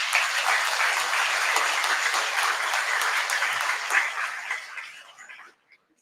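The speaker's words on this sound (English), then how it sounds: "I think all of those who have excelled need another round of healthy applause." Warm, sustained applause from a large audience honouring award winners and medallists at the 13th Convocation of Tripura University, held steady for about five seconds before tapering off quickly into silence.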